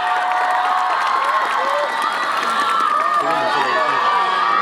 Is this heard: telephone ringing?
no